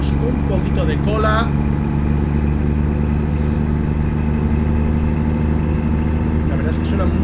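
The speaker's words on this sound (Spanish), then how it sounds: "La verdad es que suenan muy distintos los camiones americanos de los europeos" An American truck engine idles in the American Truck Simulator game, a steady low rumble that holds for the whole stretch, while someone talks over it.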